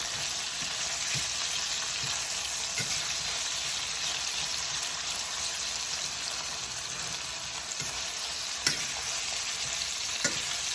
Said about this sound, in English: So if you stir things around, make sure everything is cooked.